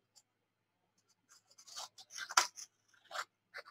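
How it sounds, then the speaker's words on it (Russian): Scissors snip and rasp through a paper dress pattern in a few quick, irregular cuts with brief quiet gaps, close and fairly soft. "Берем в руки ножницы"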